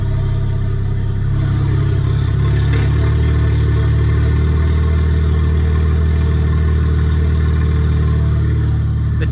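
BMW N54 engine running steadily with a DCT gearbox engaged in reverse, a loud continuous mechanical drone with a deep low hum and faint clatter, close by and unbroken, with no talk.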